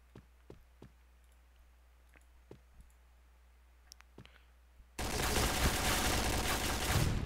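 Scattered sharp clicks and pops of Point Blank gunfire hitting walls, then a sudden loud, dense burst of continuous noise fills the last couple of seconds.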